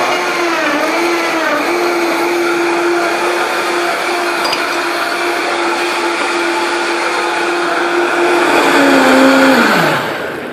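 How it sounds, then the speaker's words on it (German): A countertop blender runs at full speed blending a green smoothie with pineapple. It gives a loud, close, steady high-pitched roar for about nine seconds, then winds down sharply. "Machen wir den Mixer nochmal."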